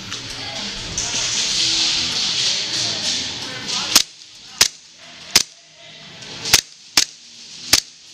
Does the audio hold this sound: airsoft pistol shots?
yes